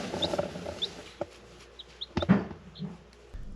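Backyard chickens make a few soft clucks and short chirps close by in a quiet yard, with brief rustles and scattered faint bird calls between them.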